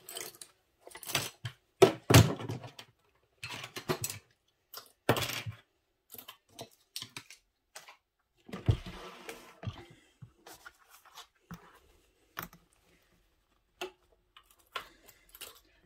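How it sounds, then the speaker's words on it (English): A sewing machine top stitching through thick layers of a wallet: short bursts of quick mechanical ticking and clatter, separated by gaps of silence, close and fairly quiet. "now we are going to start our top stitching"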